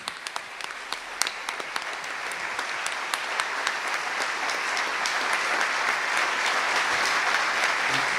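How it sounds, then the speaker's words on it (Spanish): An audience at a book presentation in Córdoba claps, starting with scattered sharp claps and swelling into steady, full applause that continues to the end. "Quiero pedir un aplauso para la editorial Recovecos"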